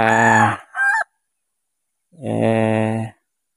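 On a small farm plot beside fish ponds, a rooster crows loudly and close, two long harmonic calls separated by a short gap of silence, with a brief clucking note after the first crow.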